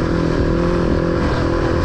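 A motorcycle engine held at steady high revs under open throttle, loud and continuous with a dense rumbling drone and no pauses for the whole stretch.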